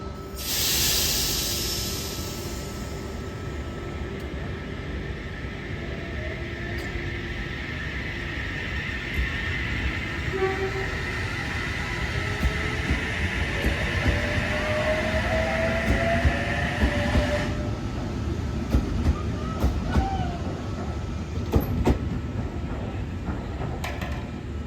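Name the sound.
passenger train pulling into station platform at night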